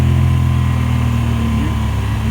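BMW E60 M5 V10 with a muffler delete pulls hard under load, a loud, continuous deep exhaust drone with steady low harmonics running unbroken from start to finish.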